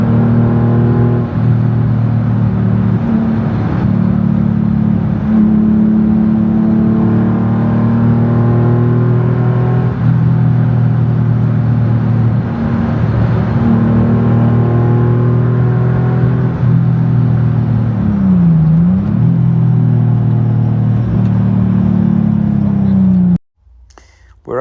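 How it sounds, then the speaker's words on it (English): Loud, steady engine drone of a car with a muffler delete climbing mountain roads toward the Black Forest, holding a continuous low rumble with subtle rev changes, then cutting off abruptly near the end. "The car's running a muffler delete system, that's why it's that bit louder."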